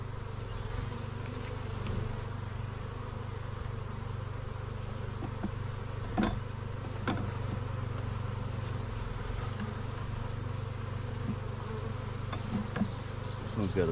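A dense honeybee hive being inspected, with bees buzzing in a steady droning hum close by, broken by a few brief clicks and knocks.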